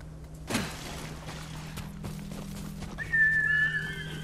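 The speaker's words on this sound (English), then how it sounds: "Horse!" A horse whinnies near the end with a high, wavering call, after a sharp thump and some scattered knocks over a low steady hum.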